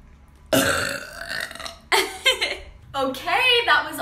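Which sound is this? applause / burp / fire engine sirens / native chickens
burp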